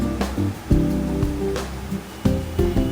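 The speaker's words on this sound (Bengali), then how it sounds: "এবার আমরা চিংড়িগুলোকে ভালো করে ধুয়ে পরিষ্কার করে নিয়েছি একদম।" Peeled prawns are rinsed clean in water, making close splashing and sloshing in uneven surges with brief quieter gaps.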